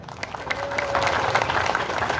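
A TV studio audience applauds at a televised religious talk, dense clapping from many hands that continues steadily throughout with a faint voice beneath it.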